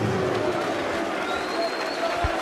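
A big arena crowd at the 2016 PDC Champions League of Darts final between van Gerwen and Taylor roars and applauds in a dense, sustained wash of noise, with a voice speaking over it.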